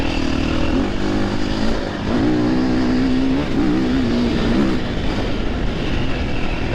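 A Triumph TF450C dirt bike on an off-road course revs hard as it accelerates, its loud engine climbing in pitch, dipping briefly at each gear change, and rising again into fourth gear.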